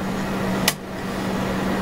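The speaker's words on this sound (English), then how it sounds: "That's just the fan." A small electric heater's fan runs with a steady low hum, close and continuous, broken once by a short sharp click partway through.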